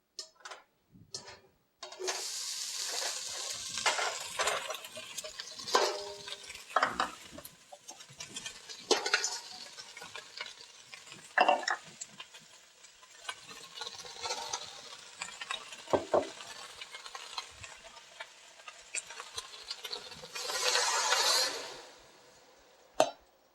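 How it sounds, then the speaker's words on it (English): Beef, onions and soup ingredients stirred together in a pot, a steady scraping and clinking of a utensil against the pot with a light sizzle, close and continuous, louder near the end. "Once we have our ingredients stirred together"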